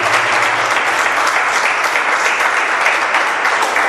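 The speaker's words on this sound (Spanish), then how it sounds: "Un aplauso a Jesús" A church congregation gives a loud round of applause during a service. The dense clapping continues without a break from start to finish.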